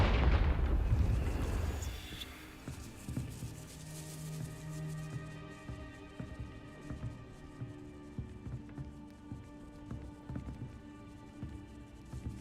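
A Confringo fire spell bursts in Hogwarts Legacy outside a castle gatehouse, a loud close blast for about two seconds that fades into a low rumbling tail with scattered crackles and thumps.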